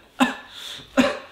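Two short sharp coughs roughly a second apart, close and fairly loud, with quiet breathing between them.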